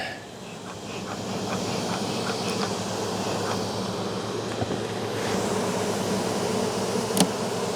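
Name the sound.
bees buzzing around hive during inspection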